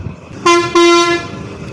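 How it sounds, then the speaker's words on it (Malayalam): Two sharp, loud horn blasts come from a bus near Kovilpatti in Tamil Nadu: a short toot followed by a longer one, sounding close against faint road background noise. "ഇതൊരു ബസ്സിൻ്റെ ഹോണടി കേൾക്കുന്നുണ്ട്."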